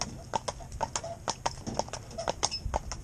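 Horse hooves walking at a steady clip-clop rhythm, close and clear over a faint outdoor background, with no voices during the steps.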